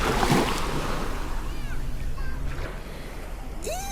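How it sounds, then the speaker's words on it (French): Sea waves at the beach in Cannes wash in as a broad roar that fades to a steadier rush, with wind buffeting the microphone and voices chattering faintly in the background. "Il y a la mer, j'ai envie de me baigner dedans."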